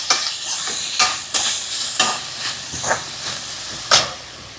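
Garlic frying in hot oil: a loud, close hissing sizzle with repeated stirring scrapes at irregular intervals.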